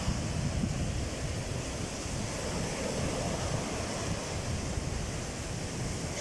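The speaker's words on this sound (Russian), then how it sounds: "Немножко поближе подойду к океанчику." Ocean surf rolls continuously onto the beach at Sunny Isles Beach, Florida: a close, steady wash of breaking waves with some wind buffeting the microphone and no voices.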